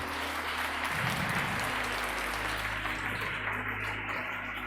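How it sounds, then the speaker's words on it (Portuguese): A church congregation applauds during a worship service, dense continuous clapping over a steady low hum, sustained throughout without any clear break. "Aplauda ao Senhor, meu irmão."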